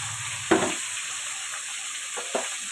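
Fish seasoned with salt and turmeric frying in oil for a Bengali fish-oil chorchori, giving a continuous close hiss with one sharp clack of a utensil early on and two softer stirring knocks near the end.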